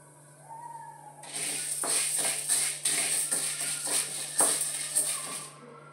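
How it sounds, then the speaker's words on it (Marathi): Whole rice grains roast in a kadhai while being stirred, producing a close, rustling scrape and gritty shuffle that starts after a quiet second and continues in uneven strokes. "शाबूत तांदूळ चांगले भाजून घ्यायचे।"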